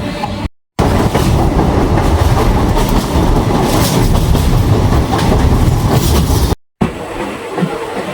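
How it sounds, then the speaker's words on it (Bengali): A passenger train pulls out of Phuleswar station near Bauria and runs along the rails, a loud, continuous rumble with steady clatter that cuts out briefly twice. "ফুলেশ্বর থেকে ট্রেনটি ছেড়ে দিচ্ছে"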